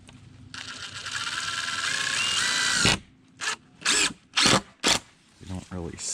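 A power drill whirs steadily for about three seconds while driving screws into wooden fence boards outdoors, followed by several short, loud bursts of drilling.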